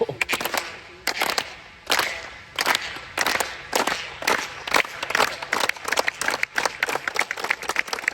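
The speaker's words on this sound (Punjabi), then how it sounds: "ਦੇਖੋ ਤਾੜੀ ਦੀ ਆਵਾਜ਼ ਕਿੰਨੀ ਜ਼ਿਆਦਾ ਗੂੰਜ ਰਹੀ ਆ" Sharp hand claps ring out in an empty stadium in Doha, repeated one after another in an uneven rhythm, each loud and followed by a reverberant echo.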